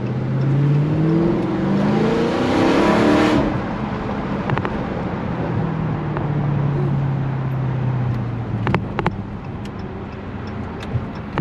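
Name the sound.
car driving on a bumpy road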